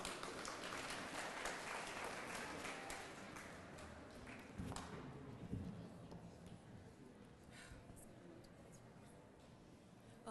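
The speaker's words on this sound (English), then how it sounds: "Please give her a round of applause and welcome her." An audience at a Michigan Muslim Capitol Day program applauds to welcome a vocalist, a soft, distant wash of clapping that gradually thins and fades over about ten seconds.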